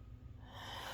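A female dog gives a single quick, breathy sneeze, a short nasal snort that bursts out close by and ends abruptly.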